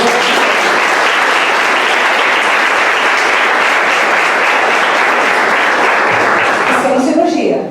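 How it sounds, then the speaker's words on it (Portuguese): A church congregation breaks into sustained applause, dense and loud clapping filling the room without pause, tapering slightly near the end. "Você pode aplaudir?"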